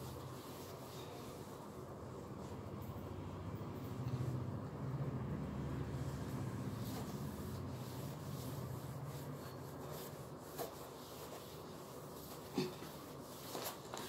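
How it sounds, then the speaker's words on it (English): A classroom board being rubbed clean, a continuous close scraping and rubbing with uneven strokes and a few sharper knocks, no voices. "Let me rub the board clearly."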